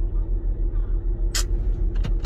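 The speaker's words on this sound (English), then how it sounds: "This car will hit you." A car engine runs close by with a steady low pulsing rumble, broken by brief hissing bursts, while people talk nearby.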